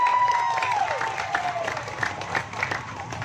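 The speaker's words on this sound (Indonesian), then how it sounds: "Tepuk tangan" A crowd at a political rally for regency head and deputy candidates in Tana Toraja claps and cheers, a short burst of mixed applause with a whistle-like tone and voices through it.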